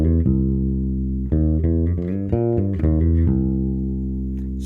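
Bluesy bass guitar line moving from minor to major third, a series of sustained and shorter plucked notes with clear pitch changes, loud and unaccompanied.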